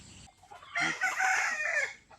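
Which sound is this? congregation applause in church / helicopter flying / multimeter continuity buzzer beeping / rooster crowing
rooster crowing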